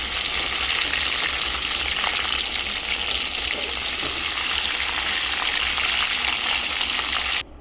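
Chicken frying in mustard oil for garlic chicken gives a close, constant hiss and crackle with scattered pops, holding steady before cutting off abruptly near the end.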